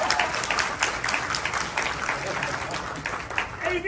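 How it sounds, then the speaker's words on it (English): An audience at a live improv comedy show breaks into a burst of clapping that fills the room, with a voice talking over the applause throughout. "Give them a round of applause."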